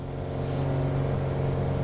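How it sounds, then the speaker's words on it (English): Airbus A320 jet engines spool up in Microsoft Flight Simulator, a steady close droning hum that holds level and rises slightly, with no talk. "now you can hear the engines back up"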